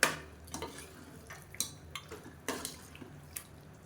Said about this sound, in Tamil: இப்போ சிக்கன் பீஸ் எல்லாத்தையுமே சேர்த்தாச்சு இதை நல்லா பரட்டி விட்டுக்கலாம்